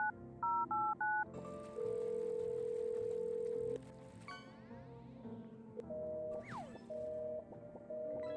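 A phone keypad dials out for a phone-roulette call. Short paired dial tones beep in a quick run, followed by a long steady tone and further electronic tones and beeps, clear and close, with no talking.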